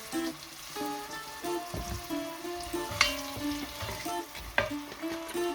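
Garlic and onions with salt fry in oil over medium heat, a steady close crackling sizzle with occasional spoon knocks against the pan, while music plays underneath.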